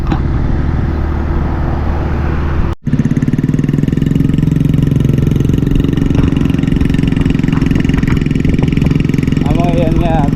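A motorcycle, apparently a newly bought NWOW, runs with a steady low rumble close by, briefly cutting out near the start before resuming; people talk over it throughout.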